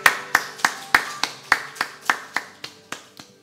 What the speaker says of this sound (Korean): 우리 소망 되신 주님께만 감사와 찬양의 박수 드리기 원합니다